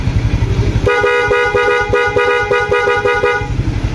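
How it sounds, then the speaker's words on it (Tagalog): A loud, steady horn on a Honda Beat motor scooter blares for nearly three seconds over a chugging idling engine close by. "Busina tayo sa loud horn."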